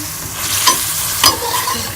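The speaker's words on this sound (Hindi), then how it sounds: "चिकन को जो है वो मसाला अच्छी तरह से भून लूँगी मैं।" Chicken frying in masala while being stirred, a loud close sizzle throughout with two distinct scraping strokes of the spoon, no talking.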